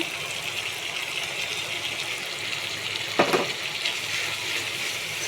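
Spice powders for a vegetable chop, turmeric, cumin, coriander and Kashmiri chilli with green chilli, frying in a pan with a steady close sizzle and one brief scrape of stirring midway.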